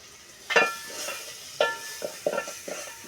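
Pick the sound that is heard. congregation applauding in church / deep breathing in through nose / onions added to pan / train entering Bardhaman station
onions added to pan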